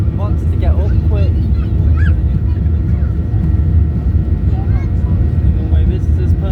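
A jet airliner takes off from Manchester Airport on a sunny day, its engines a loud, steady roar and rumble throughout, while people nearby talk over it.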